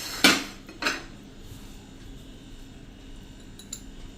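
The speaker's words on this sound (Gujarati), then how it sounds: "આપણે એમાં ધાણા ભાજી સમારેલ નાખી દેશું" A spoon clanks against a pot twice as chopped coriander goes into simmering mango fajeto, two sharp metallic knocks near the start, then faint stirring and a couple of light clinks.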